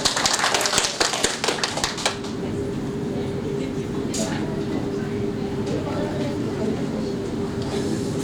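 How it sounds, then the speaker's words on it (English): Conference audience applause: a burst of clapping from a crowd in a hall, dense at first, then thinning into a few scattered claps within a couple of seconds, leaving room tone and murmur. "let's give a round of applause"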